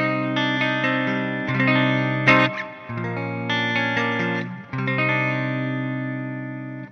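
Electric guitar played through a Mooer effects pedal with the dry knob turned fully up, ringing sustained chords and notes with steady level and a short dip midway, heard alone without talk.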